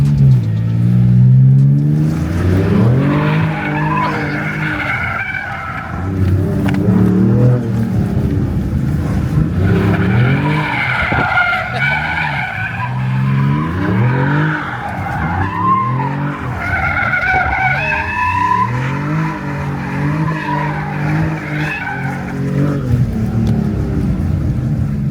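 A Dodge Charger Sixpack accelerates and slides, its engine revving loudly while the tires squeal in long, wavering howls across repeated bursts of close, sustained skidding.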